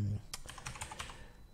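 Rapid keystrokes on a computer keyboard while someone writes code, a quick burst of close, light clicks with a brief low thump at the start.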